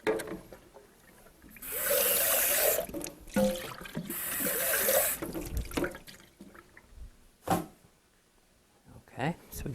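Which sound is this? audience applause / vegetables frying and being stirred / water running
water running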